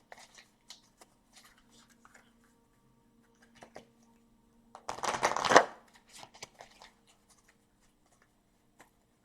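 Oracle cards from a fairy healing deck being shuffled, a brief close riffle burst in the middle of a quiet stretch, with faint hand and card taps around it and no talking.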